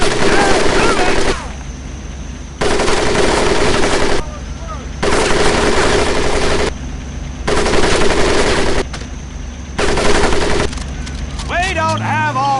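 Machine gun fire rattles over a Marines' mud pit training course in Medal of Honor: Pacific Assault, loud sustained bursts repeating in a steady on-off rhythm, with brief pauses between volleys.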